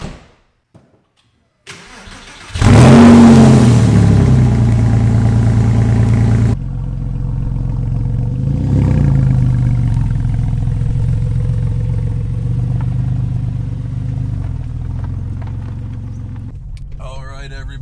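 Porsche 996 Carrera 4 flat-six catching and starting loudly after a moment of silence, a sharp rev flaring then settling into a steady, throaty idle with another brief blip midway, running near and continuous with faint background clatter.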